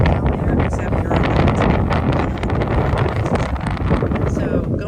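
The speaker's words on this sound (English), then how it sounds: "it's a little windy" Wind buffeting a microphone on a staircase at St Pete Pier, a loud, continuous roaring rumble with gusty surges throughout and no other clear sound.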